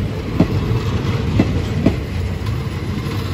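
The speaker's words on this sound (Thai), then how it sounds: "ไปแล้วครับรถด่วนขนของขบวน985" Express freight train 985 passing Chumphon station at night, a loud steady rumble with periodic clickety-clack wheel beats on the rail joints.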